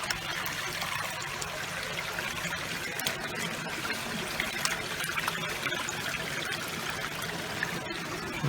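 Burnt copper wire being washed and scooped in water, with continuous close sloshing, trickling and splashing and occasional clinks throughout, no speech.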